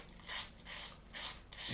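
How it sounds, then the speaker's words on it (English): Fine sanding stick rubbed across a small plastic part of a 1/48 scale Italeri Seahawk helicopter kit, four close, rasping strokes in a steady back-and-forth rhythm. "use a fine sanding stick"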